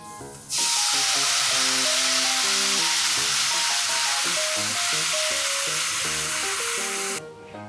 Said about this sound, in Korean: 이렇게 볶아준 다음에 자, 끕니다